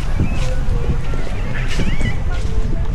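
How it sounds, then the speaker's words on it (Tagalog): Wind rushes and buffets across the microphone in a loud, continuous roar at a beach in Tigbauan on Panay Island, with faint tonal squeaks and a voice briefly in the mix. "lumalakas-lakas na rin ang hangin ng konti"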